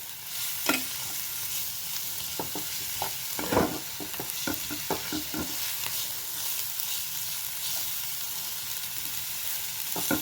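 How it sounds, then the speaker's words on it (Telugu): Onions fry with turmeric and ginger garlic paste in a pan, a steady close sizzle punctuated by repeated scraping and tapping stirring strokes. "1/2 టీ స్పూన్ పసుపు, 1 టీ స్పూన్ అల్లం వెల్లుల్లి పేస్ట్ ఇది కాస్త ఇలా వేయించుకోవాలండి"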